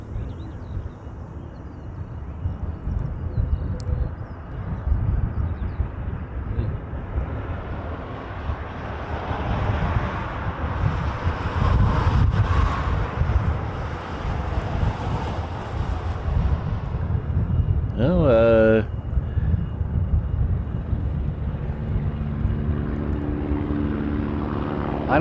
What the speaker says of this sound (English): the next arrival is coming in from Nagoya. It's a 787. It's a Japan Airlines.